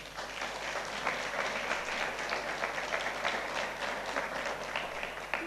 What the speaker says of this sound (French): je voudrais qu'on les applaudisse sincèrement